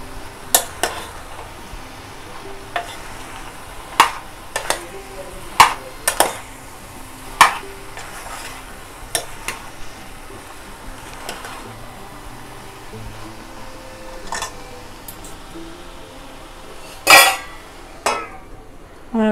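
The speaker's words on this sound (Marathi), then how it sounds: "हा चांगला ढवळून घेऊया आपण" A spoon stirs pumpkin bhaji cooking in a pan, making repeated sharp scrapes and taps against the metal at irregular intervals over a low hiss, with a louder cluster of clinks near the end.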